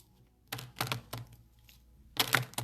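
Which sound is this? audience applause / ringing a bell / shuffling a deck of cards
shuffling a deck of cards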